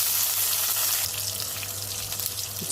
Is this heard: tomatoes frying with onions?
yes